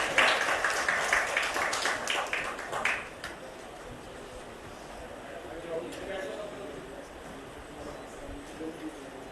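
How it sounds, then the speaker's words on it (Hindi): An audience applauds a student being welcomed on stage at an event with President Droupadi Murmu for NIEPVD students in Dehradun. The clapping is dense and fairly loud, then fades after about three seconds into quieter hall sound with a voice. "जोरदार तालियों से राज का मंच पर स्वागत करें"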